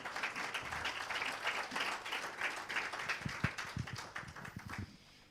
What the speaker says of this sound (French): On peut applaudir Dieu